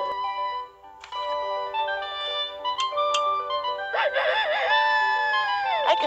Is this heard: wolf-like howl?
no